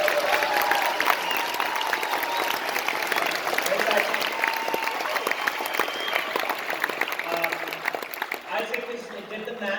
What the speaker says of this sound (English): so you can applaud for them